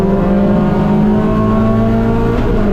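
Race car engine on a track, loud and steady throughout with a sustained droning roar and slight pitch shifts as it brakes and accelerates, no voices.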